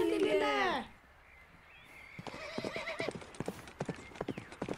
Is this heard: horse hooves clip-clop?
yes